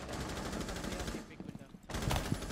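Rapid gunfire in the video game Rainbow Six Siege, dense bursts of close shots that break off briefly and then resume.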